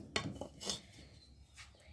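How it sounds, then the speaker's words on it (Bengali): A clay lid (sara) is set onto a clay handi pot, giving a few light, close ceramic clinks and knocks spread across a quiet kitchen moment. "আর এই সরা নিয়েছি, এরকমভাবে ঢাকনা দিয়ে দিতে হবে"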